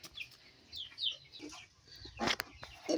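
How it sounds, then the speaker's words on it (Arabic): Hybrid baladi chickens, about a month old, cluck and chirp in short scattered calls close by, with a brief louder squawk near the end over low farm background noise. "الفراخ البلدي الهجين"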